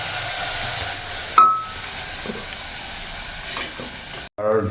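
Goat meat sizzling in a wok, a constant hissing fry with occasional scrapes and clinks of stirring, one sharp metallic tone early on, and a brief cut near the end.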